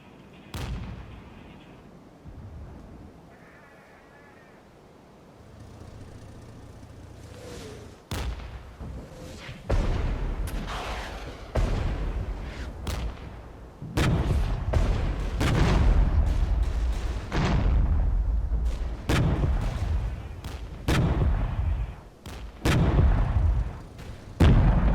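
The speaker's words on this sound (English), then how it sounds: "The BMPs stop firing at me with those HGMs." BMP vehicles in the Regiments war game fire in repeated heavy cannon bursts, loud booming shots that come at irregular intervals and build into near-continuous volleys.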